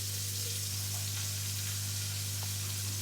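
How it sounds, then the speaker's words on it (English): Bacon and chicken sizzle steadily in a pan for coq au vin, a constant close frying hiss over a low kitchen hum, with no talking. "So the bacon's been in just a minute, just crisping up."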